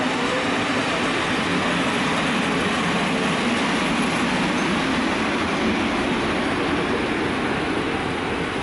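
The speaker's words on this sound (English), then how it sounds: "I also caught a few shots of various PKP trains in Krakow." PKP train passing through Krakow, a steady loud rolling rumble of wheels on rail with broad hiss lasting throughout, no voices.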